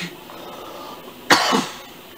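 A single person gives one sharp cough with a short rough follow-on, close to the microphone over a quiet game-music background, during a Legend of Zelda: Twilight Princess HD playthrough.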